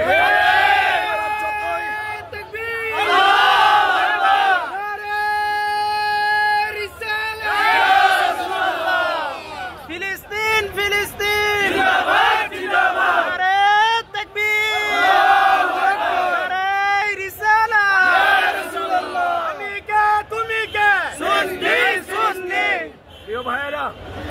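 A large rally crowd in a Dhaka street chants slogans in loud, rhythmic unison, voices rising and falling in repeated call-and-response waves for the whole stretch.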